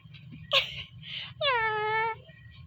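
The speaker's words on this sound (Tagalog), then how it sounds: "Meow, meow" A cat gives a few close meows: a short one first, then a brief breathy sound, and finally a longer, drawn-out tonal meow, with no people talking.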